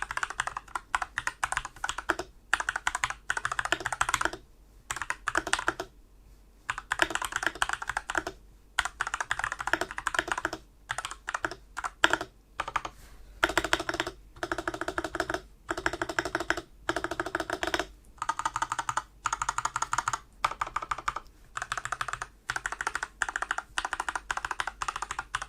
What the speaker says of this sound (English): So now I've unplugged the cable and we'll do a little bit of a sound test this so you can hear what it's like.